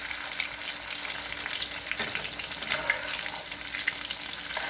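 Bacon egg foo young patties frying in a pan, a continuous close crackling sizzle with a few scraping touches of a utensil partway through.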